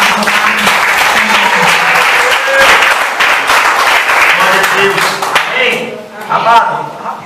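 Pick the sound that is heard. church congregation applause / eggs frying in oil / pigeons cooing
church congregation applause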